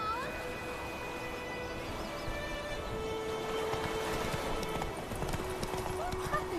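Horse hooves clip-clopping at a steady pace while riding in The Witcher 3 video game, faint and continuous under game ambience and brief voices.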